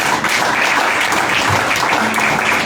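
A church congregation applauds during a worship service, a steady dense wash of clapping filling the whole moment at close range with no break.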